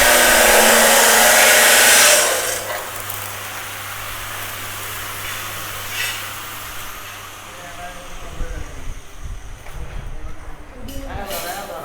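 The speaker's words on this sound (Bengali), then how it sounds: "এগুলো হচ্ছে আমাদের ভুট্টা মারাই মেশিন" A corn threshing machine runs at a workshop, giving a loud, steady roar with a blast of air for the first two seconds, then a lower continuous drone with clattering toward the end.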